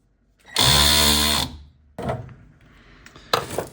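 A power tool whirs in one loud sustained burst, then gives shorter, rougher bursts while removing stuck bolts from the F1 gearbox pump of a Ferrari F430.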